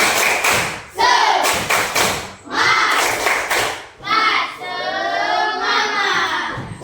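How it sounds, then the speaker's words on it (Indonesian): A classroom group performs the Indonesian 'tepuk semangat' clapping chant, loud rhythmic bursts of claps and thumps alternating with children's chanted voices, ending in a sustained sung phrase. "Ayo coba tepuk semangat dulu."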